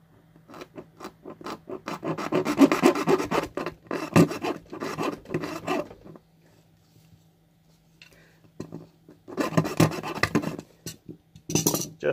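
A hacksaw cuts through the metal of a dead lighter in quick, rasping back-and-forth strokes, close and fairly quiet, broken by a pause before a second burst of sawing.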